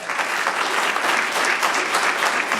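Audience applause at a community event's legal panel, a dense, steady wash of many hands clapping that carries evenly through the whole stretch without letting up.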